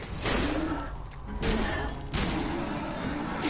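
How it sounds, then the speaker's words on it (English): Shotgun blasts in the video game Borderlands 2, three loud, broad bursts spaced roughly a second apart over a noisy game background. "This shotgun is actually pretty cool. Really good shotgun."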